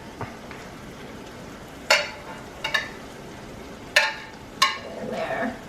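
Chunks of meat go back into a pot of Argentine locro stew, making several sharp clunks and scraping stirs over a soft, steady background hiss.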